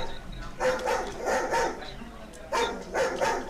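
A dog barks in short bursts several times, fairly close, with a bit of yipping between the barks.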